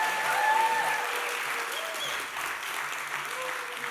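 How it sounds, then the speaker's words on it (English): Audience applause at an evening event honouring author Earl Lovelace at 90, a steady, full wash of clapping from a sizeable crowd that holds evenly throughout, with a faint voice or two underneath. "So I think you could give us a round of applause."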